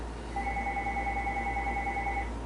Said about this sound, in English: Hopefully that phone will quit ringing.